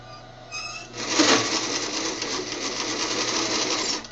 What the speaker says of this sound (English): you're going to stitch all the way across like this, all the way to the end